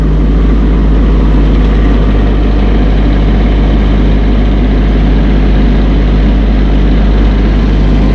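A Massey Ferguson 1M.25 hydrostatic compact tractor with a 24.8 hp engine runs loud and close while circling on gravel, its steady low diesel drone and faint crunch continuing unbroken throughout, with no voices.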